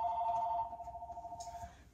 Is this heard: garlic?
no